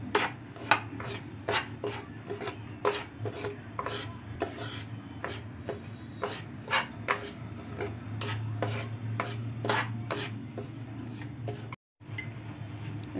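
A spoon scrapes and stirs a peda mixture with sugar in a pan, a steady train of close, rhythmic metallic scrapes and clinks running throughout with a brief dropout near the end.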